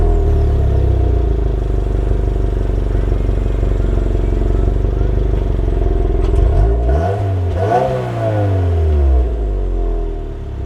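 A new Subaru WRX Premium sports car drives along with a steady engine drone and road rumble, then revs up and shifts through gears near the end, loud and close from inside.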